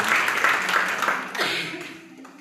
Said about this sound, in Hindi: जोरदार तालियों से आर्या दी का स्वागत करें।